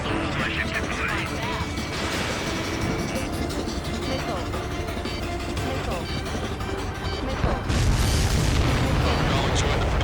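Missiles strike targets in the combat flight game Ace Combat 7, with repeated booming explosions over dense jet and battle noise, ending in a heavier blast near the end.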